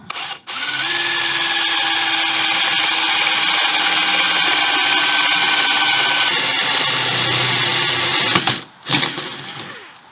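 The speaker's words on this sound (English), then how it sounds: "drill a hole." A power drill boring a hole in a guitar whines steadily for several seconds, a high sustained motor tone close by, then cuts out briefly and spins down.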